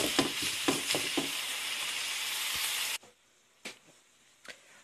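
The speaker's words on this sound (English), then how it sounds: "I'm just frying some of that up" Loud sizzling of sausage frying in a pan with a few scraping stirs, cutting off abruptly and leaving quiet with occasional clinks.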